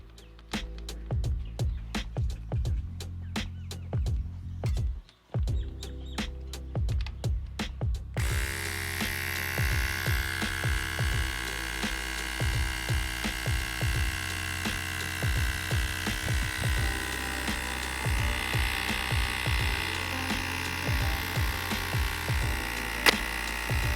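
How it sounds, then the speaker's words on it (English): A small electric compressor inflates a bicycle tyre, starting with rapid clicking bursts before settling into a steady, close mechanical drone that runs on without a break. "I have this compressor that I bought on internet."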